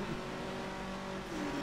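Race car engines in a racing video game roar together at the start, a dense, steady, moderately loud wall of revving with no break.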